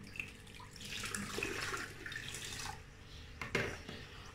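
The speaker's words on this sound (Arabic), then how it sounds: "وغادي ندير هاد الاطرو ديال الماء. غنكب كلشي" Water is poured into a cooking pot to make a homemade honey syrup, a steady splashing, trickling stream heard up close that tapers off, with a brief clatter near the end.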